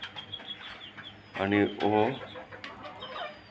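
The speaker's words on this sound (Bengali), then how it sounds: "এই যে শুরু হয়েছে। এটা আমার একটা ইউনিক মোরগ" A distinctive rooster on a small backyard farm calls out in two strong, close bursts, with a brief voice speaking and light farmyard noise around it.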